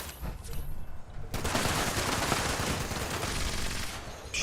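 Gunfire in Fallout 76, a dense continuous stretch of rapid shots that starts abruptly after a quieter opening and stays loud and close until the end.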